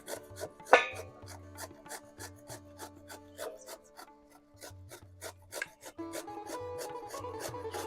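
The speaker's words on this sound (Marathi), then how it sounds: "दुधी भोपळा आपण आता किसून घेणार आहोत." Half a bottle gourd with its skin left on is rubbed across a kitchen grater in repeated rasping strokes, quiet and close, with short pauses between bursts and a faster run near the end.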